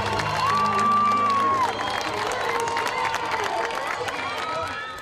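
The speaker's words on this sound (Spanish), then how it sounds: "Os ativistas, alguns não brasileiros, foram recebidos com aplausos, gritos, pessoas cantando o hino nacional" A crowd greeting activists at a protest over soy cultivation in the Amazon claps and shouts, with a piercing whistle near the start above a steady, loud blend of cheers and voices.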